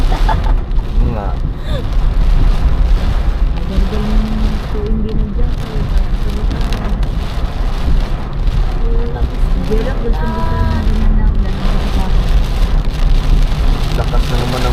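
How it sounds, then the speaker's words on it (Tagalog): Heavy rain hisses steadily and loudly over a vehicle engine on a road, and people talk and laugh over the continuous downpour. "Lakas na naman ang ulan, bay."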